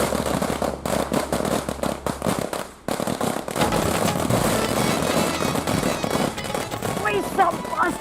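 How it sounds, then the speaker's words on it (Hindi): Firecrackers burst in rapid, crackling volleys at a wedding celebration in Varanasi, loud and dense sharp pops, with people talking and shouting over the noise. "पटाखे घर पे थोड़ी फोड़ेंगे"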